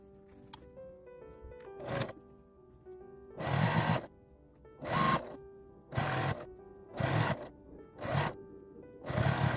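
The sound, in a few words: sewing machine running an edge stitch on fabric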